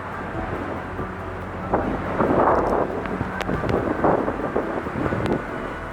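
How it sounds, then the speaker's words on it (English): Strong hurricane winds from Helene roar and buffet steadily against the microphone, with gusts swelling and a continuous rushing noise throughout. "Listen to that wind."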